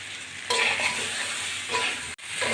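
Green chillies drop into a pan of frying aubergine and potato, the sizzle jumping louder at once and continuing as a bright steady hiss with light stirring close by.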